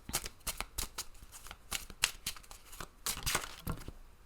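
Tarot cards are shuffled in quick, crisp riffling bursts, a steady run of papery flicks and snaps that is fairly quiet and close, with no voice over it.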